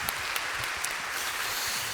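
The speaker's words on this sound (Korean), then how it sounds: "행복한 걸로 박수하겠습니다" A church audience applauds during a mission talk show, a dense, steady wash of many hands clapping throughout.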